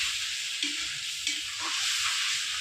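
Ginger, onion, garlic, green chilli and tomato paste fries in a pan, giving a steady close sizzle with brief stirring scrapes, and there is no talking.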